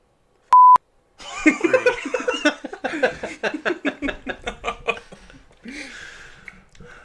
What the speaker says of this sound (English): Now I gotta start beeping things out again.